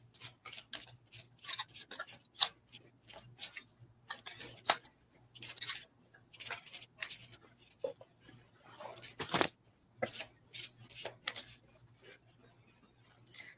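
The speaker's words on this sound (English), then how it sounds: "I've been shuffling" Tarot cards being shuffled by hand, heard as close, quiet bursts of crisp riffling and tapping in an irregular rhythm, with brief pauses between shuffles.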